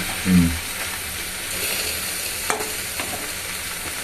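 Food stirred and scraped around a nearly dry pan over a gas flame while cooking a dry curry, giving a steady soft sizzle with scraping strokes and a few brief knocks, close and continuous.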